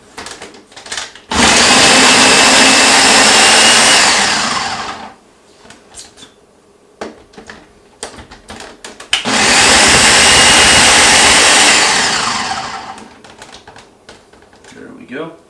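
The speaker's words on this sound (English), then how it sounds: "My blender is not big enough to do all 4 pounds at once, so we're going to do it in 2 batches" A kitchen blender chops whole onions in two loud, steady roaring bursts of about four seconds each, with quieter handling clatter before, between and after them.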